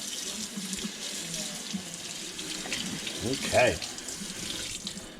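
Tap water runs steadily into a sink over a freshly molded mouth guard to cool it, a continuous close hiss with a brief spoken word near the middle.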